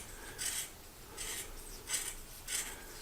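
Scissors cutting fiberglass cloth for a 1967 CJ Jeep gas tank repair: four soft rasping snips at an unhurried pace, close and quiet.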